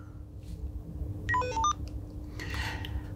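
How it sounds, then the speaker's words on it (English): A Motorola CLP two-way radio powers on with a short sequence of clear electronic beep tones through the earpiece, rising and falling in pitch over about half a second against a quiet background hum. "When you turn the radio on, you'll get an audible beep through the earpiece."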